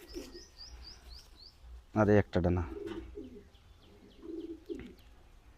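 Madrasi high-flying pigeons coo and chirp softly nearby, with a few brief thumps or handling noises midway, while someone talks over them.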